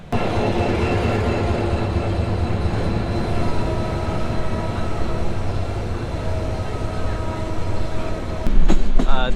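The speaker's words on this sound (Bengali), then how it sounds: "ঠিক নির্ধারিত টাইমেই ঢাকার উদ্দেশ্যে ছেড়ে যাচ্ছে কক্সবাজার এক্সপ্রেস" The Cox's Bazar Express pulls out toward Dhaka, a loud continuous rumble of rolling wheels and carriages with steady mechanical hum, ending in a burst of sharper clattering and squeal near the close.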